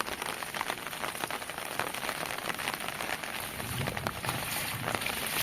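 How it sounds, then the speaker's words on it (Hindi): Heavy rain pours down in a village, a dense continuous hiss of drops striking surfaces, steady and close throughout with no other sounds standing out. "वर्षा बहुत जोर होउची गाँव रे"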